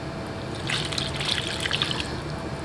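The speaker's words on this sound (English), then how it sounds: "we are going to pour the milk and margarine mixture into our flour" A milk and margarine mixture is poured into flour for cinnamon bun dough, a soft continuous liquid trickle heard up close and alone for a couple of seconds.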